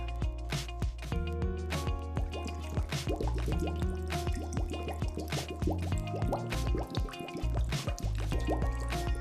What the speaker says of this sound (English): All I could hear was the sound of the water bubbles from the scuba apparatus that you can hear now.